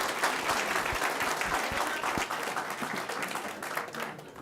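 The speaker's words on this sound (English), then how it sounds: "Let's give them a big applause" An audience at a school board of trustees meeting applauding singing students, a dense, steady round of clapping with a few louder close claps, fading slightly at the end.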